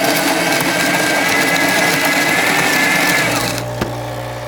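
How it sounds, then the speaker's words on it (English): The burr grinder in a Krups coffee maker grinds beans with a loud, steady, close whirring buzz that runs for several seconds and then cuts off, leaving a faint hum. "It's a Burr grinder"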